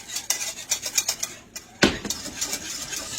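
A spoon beating a 3-ounce box of Jell-O mixture in a bowl, quick repeated clinking and scraping strokes in a steady rhythm, with one louder knock partway through, close up and without talk.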